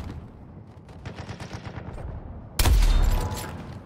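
Gunfire in the Suicide Squad video game, a single loud sharp shot with a booming tail arriving near the end after quieter background game sounds.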